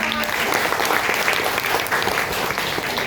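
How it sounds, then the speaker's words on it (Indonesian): An audience claps together during a breastfeeding class, a dense, fairly loud burst of applause that fills the room, with some voices mixed into the clapping. "tepuk tangan dulu buat teman"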